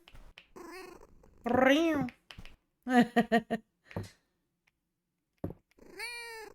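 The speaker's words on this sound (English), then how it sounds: "It's my kitty." A cat in the farming video game Fields of Mistria gives several clear, close meows, some drawn out and rising, spaced by short gaps and pauses of near silence.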